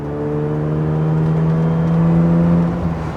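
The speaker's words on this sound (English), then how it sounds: "The engine is interesting, and definitely with this one with the opened up exhaust, it's louder than a stock one would have been" A 1993 Mazda RX7 with a rotary engine and an opened-up exhaust revs close by, its droning engine note rising steadily, loud and alone with no talk.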